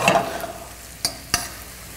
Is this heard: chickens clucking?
no